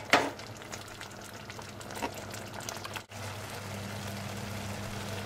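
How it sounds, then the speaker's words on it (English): Beef chili cooking in a pot for about half an hour, giving a low steady bubbling and faint sizzle with a soft clatter at the start and a brief dip partway through, no voices. "the chili's been cooking now for a total of 30 minutes"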